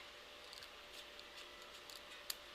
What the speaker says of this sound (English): That's when I would take my scissors and just kind of go across and just kind of trim off any